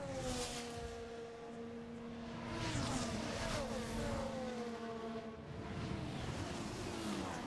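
Formula 1 cars in a racing video game at the Chinese Grand Prix, engines screaming and rising in pitch as they accelerate and jostle for position, a steady loud high whine with overlapping tones.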